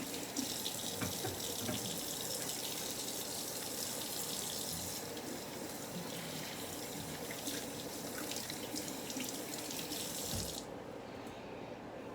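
A kitchen faucet gushes steadily into a sink as hands are washed after making salsa, a constant close-up splashing stream lasting several seconds before the flow suddenly cuts off and quiets.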